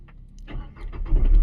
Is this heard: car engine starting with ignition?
yes